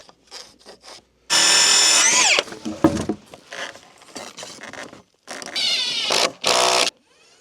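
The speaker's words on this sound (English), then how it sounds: "I'm gonna take off 3 inches screws" A power drill backs out three-inch screws from wood at a cold cabin. There are several separate whirring bursts with rising and falling pitch, with quieter scraping and handling noises between them and no talking.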